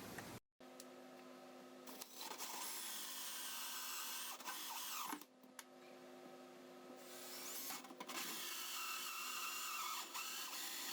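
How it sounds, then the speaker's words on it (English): A power drill bores holes for Uniseal fittings during a boat toilet installation on a Cobalt 250, a sustained close whirring that runs nearly unbroken with a couple of brief pauses and slight pitch shifts. "So I'm going to use this sheet as a guide and drill these things out."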